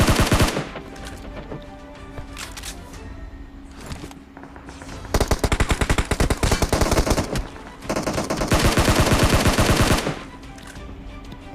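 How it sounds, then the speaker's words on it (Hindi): Rapid automatic gunfire from a PUBG Mobile match, with dense bursts of firing that swell loudly in the middle and trail off into scattered shots, alone without talk. "बड़ा गंदा फायर करता है।"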